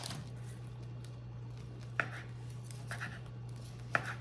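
A knife cuts through partly frozen smoked sausage on a board, giving a few sparse, sharp chops spaced about two seconds apart, faint and close over a steady low hum, with no talk.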